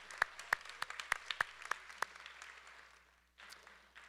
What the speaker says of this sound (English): let's give a round of applause for Ellen